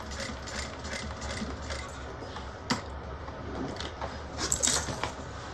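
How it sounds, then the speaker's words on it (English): A sewing machine top-stitching a bag near a zipper, a steady mechanical whir with light rattling clicks, close and alone. "And then continue with your top stitching."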